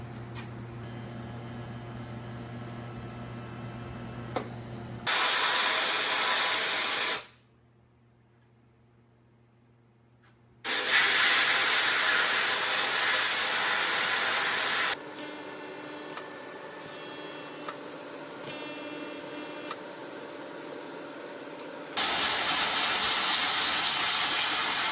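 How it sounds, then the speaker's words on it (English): A Syncrowave 250 welder set to 87 amps lays a bead with 309L stainless steel filler wire on an Allen wrench being made into a scribe. Steady, loud arc hiss comes in several long bursts, separated by quieter humming stretches and one silent gap. "I'm going to make a weld right there. I've got 87 amps on my Syncrowave 250"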